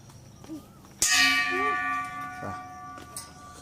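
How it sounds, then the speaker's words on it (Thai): A single loud strike on a Thai temple bell rings out with a bright clang, then its tone hums and slowly fades over a few seconds. "ตีระฆังลงไปด้วยนะครับ"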